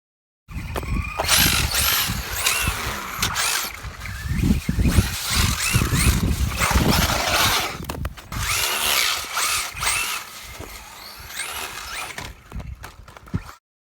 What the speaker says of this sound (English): We're gonna attempt to hit this snow pile once again, easing on the throttle.